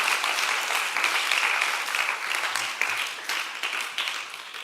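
A church audience at a Korean mission gathering breaks into dense, sustained applause, loud and crowded at first before gradually thinning and fading.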